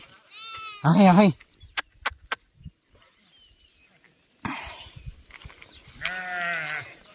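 Sheep bleat in loud, wavering calls near the start and again near the end, with scattered clicks and a burst of rustling between them, out in a village pasture.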